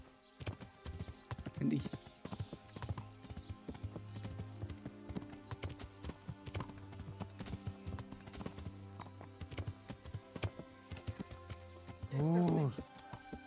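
A horse's hooves clip-clopping steadily through bushes in the video game Kingdom Come, with a neigh near the start and another near the end, under intermittent speech.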